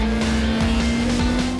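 A motorcycle on a race track in the rain, running on Bridgestone R11 tyres, its engine roaring loud and close with a steady sustained drone as the throttle is held open down the straight, with no talk.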